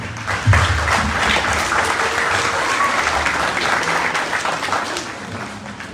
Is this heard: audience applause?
yes